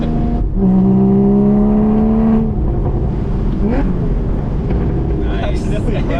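A Porsche 981 Spyder engine revs up through a gear change, a loud sustained engine note rising and dropping up close while people talk over it inside the car.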